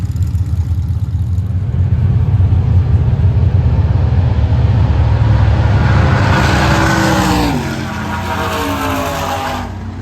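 A nostalgia gas-class gasser drag car at an old-time drag race roars loudly and continuously, its engine note climbing through a run before easing off near the end.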